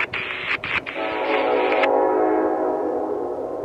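Norfolk Southern NS392 freight led by an SD70ACE locomotive sounds its chime horn, a couple of short opening blasts followed by a long, loud sustained chord held to the end.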